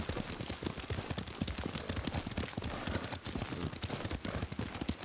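Horse hooves clop in a steady, fast rhythm as a rider gallops in Ghost of Tsushima, loud and continuous throughout with dense background game sound.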